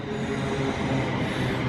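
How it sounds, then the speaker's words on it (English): A train pulls into a station with a steady, rumbling wheel-and-rail roar and low droning hum that holds evenly throughout, fairly close and with no voices over it. "Another train in."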